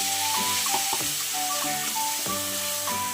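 Green chillies, peas and ginger-chilli paste sizzle in a hot kadai at close range, a steady frying hiss broken by a few sharp stirring scrapes and clinks.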